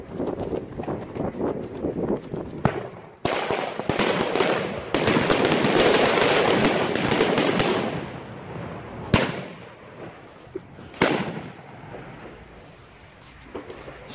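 A mat of about 100 firecrackers bursts in a dense, crackling rapid-fire barrage of loud pops for several seconds outdoors during New Year fireworks, followed by a few scattered sharp bangs as the noise dies away.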